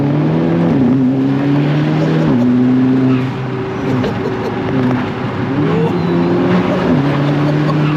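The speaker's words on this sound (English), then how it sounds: "This car sounds nice as well, man." A tuned 320bhp Audi S3 8P quattro drives with a deep, beefy engine note, rising and falling through gear changes as it accelerates, loud and close from inside the car, with brief talk.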